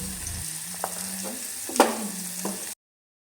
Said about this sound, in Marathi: तोपर्यंत इकडे मी डाळ फोडणी घालून घेते.